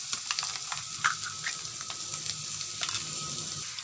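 Mustard, sesame and chili paste sizzling and frying steadily in a pan, with occasional stirring scrapes and pops throughout.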